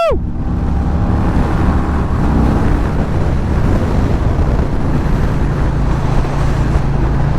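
A 2022 Harley-Davidson Street Bob pulls hard in fourth gear. A brief rising engine note opens the clip, then loud, continuous wind and road roar dominates and largely buries the engine rumble.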